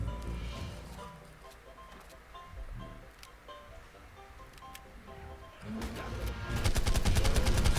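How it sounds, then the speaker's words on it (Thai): Machine gun fire in a dungeon-crawling video game, scattered shots at first, then a loud, rapid automatic burst near the end over game background sounds. "เราใช้ปืนกลเลยนะ"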